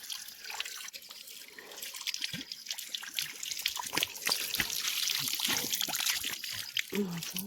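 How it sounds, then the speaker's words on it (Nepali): Water trickles and drips as feet are washed at a village farm, a close, uneven splashing with spattering drops throughout. "खुट्टा पखाल्नु"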